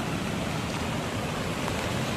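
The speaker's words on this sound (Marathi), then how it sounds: "बघा हे का धबधबा" Water pours over a village lake spillway like a waterfall, a dense, constant rushing roar heard up close with no voices.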